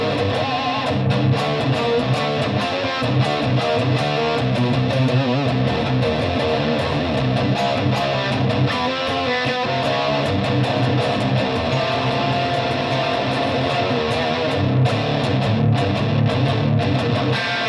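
An electric guitar played through a high-gain distortion pedal sits in a dense, saturated wash of sustained chords and riffs, loud and continuous throughout.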